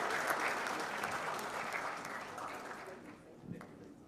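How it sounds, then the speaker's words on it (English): Applause from an audience at a speech event at PrideInn Paradise, steady clapping that fades gradually over about four seconds, with a voice heard briefly under it. "Let's also clap. Let's clap."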